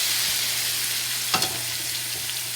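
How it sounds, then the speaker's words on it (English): Crushed ginger, garlic, green chili, tomatoes and onions sizzle in a pan for aloo gobi masala, a steady close hiss with one brief clatter partway through. "Quickly add tomatoes and onions"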